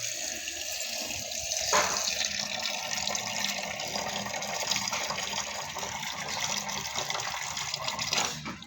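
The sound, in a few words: water filling a mug with stones in it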